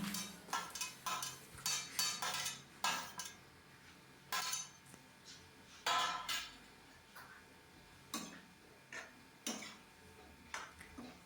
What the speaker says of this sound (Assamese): ভালকৈ এতিয়া মই লৰাই আছোঁ ধুনীয়াকৈ, দেখিছে নহয়।